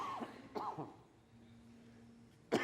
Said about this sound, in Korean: 제가 아무래도 기침을 해야 될 것 같은데.